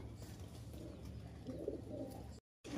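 Soft, low coos from a red pied female pigeon murmur a few times close by, quiet and throaty, with faint background room noise.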